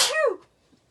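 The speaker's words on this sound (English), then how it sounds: "I'm going to sneeze." A single sneeze from a person during a card-making stamping session, one sharp burst that quickly fades to quiet, alone without talk.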